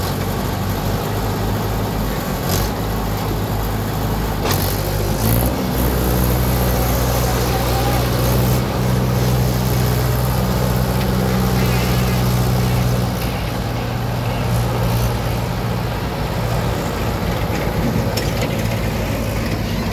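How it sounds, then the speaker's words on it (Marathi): A loaded tractor on a muddy farm road, with a Sonalika tractor nearby, runs with a loud, steady engine drone and deep mechanical rumble, joined by a few sharp knocks and clatters. "आता बघा हा ट्रॅक्टर भरलेला आहे आणि थोडा नॉर्मल दलदलीचा रस्ता आहे बघा"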